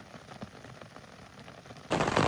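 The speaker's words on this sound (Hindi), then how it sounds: "बहुत तगड़ी बारिश हो गई है दोस्तों" Very heavy monsoon rain in a hill pine forest, arriving as a sudden loud broadband roar near the end after a quieter stretch of scattered patter.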